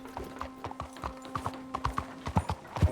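Horse hooves clip-clopping at a quick, steady gallop in Red Dead Redemption 2, close and rhythmic, with a faint steady hum underneath.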